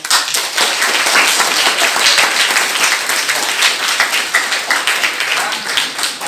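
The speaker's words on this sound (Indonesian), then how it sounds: "Ya, tepuk tangan ya" A class of students breaks into steady hand clapping for a teacher's lesson, a loud, dense patter of many hands that holds evenly from start to finish with no talk over it.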